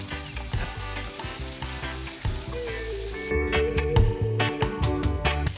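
Shrimp frying in a hot skillet for coconut curry shrimp, a steady loud sizzle with light scraping and stirring clatter, growing a bit busier toward the end.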